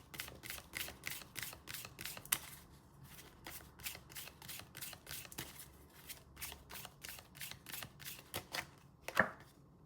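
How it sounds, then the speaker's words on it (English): Tarot cards being shuffled by hand: quick repeated riffling bursts in an uneven rhythm, close and crisp, with a sharper snap near the end. "I shuffled all these cards"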